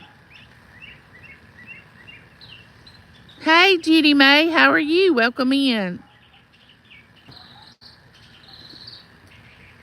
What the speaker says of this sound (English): The birds are singing